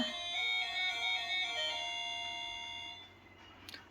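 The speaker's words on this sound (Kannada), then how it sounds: "ಏನಕ್ಕೆ ಬೆಲ್ ರಿಂಗ್ ಮಾಡಿದ್ದೀರಾ?" A melodic electronic doorbell chime at a home plays a short tune of clear, steady tones for about three seconds before fading away, heard alone with no talking.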